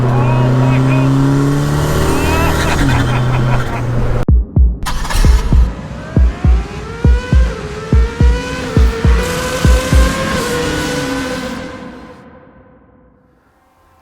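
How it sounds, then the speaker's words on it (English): A 450-horsepower rear-wheel-drive classic Mini with a DSG gearbox, its engine loud and close, revving hard through a rapid series of sharp gear-change bursts before fading away into the distance. "A 450 horsepower classic Mini with a DSG gearbox."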